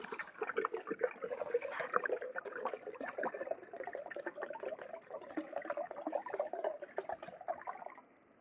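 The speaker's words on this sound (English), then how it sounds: "Now I'm going to add the rest of this water to the pot." Water pours into an MSR Windburner Duo 1.8L cooking pot in the cold, a continuous close gurgling, splashing stream lasting several seconds, fairly quiet and alone before tapering off at the end.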